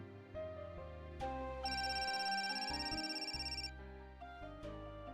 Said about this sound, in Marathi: ह्या फोनवर पण आदित्यचाच फोन आहे.